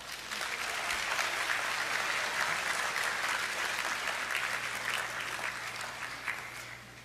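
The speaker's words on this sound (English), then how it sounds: "So give yourselves a round of applause." Graduates applauding at a De La Salle University graduation ceremony, a dense, even wash of clapping that holds steady, then gradually tapers off, moderately quiet with a low steady hum beneath.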